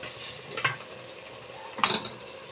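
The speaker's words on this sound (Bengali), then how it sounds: "গ্রেভি ভালো করে ফুটতে শুরু হয়ে গেছে, এবারে আমি মাছগুলো বসিয়ে দেব" Katla fish pieces slid into bubbling curry gravy in a pan, two brief splashy sizzles set apart by a soft simmering hiss, close and moderately loud, with no voices.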